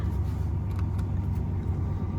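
Steady low rumble of road traffic on the approach to the Mont Blanc Tunnel between France and Italy, with cars and vehicles crawling along a single lane where roadworks are underway, a continuous close engine drone with no break.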